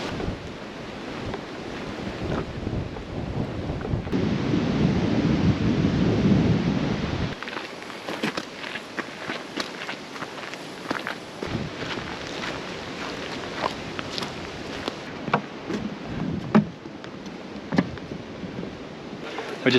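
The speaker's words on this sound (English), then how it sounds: "Weather's been beautiful, a little bit windy, as you can hear and feel there." Strong wind on a coastal clifftop hiking track in Tasmania buffets and roars against the microphone, gusting loudly and continuously with broadband rumble and no voices.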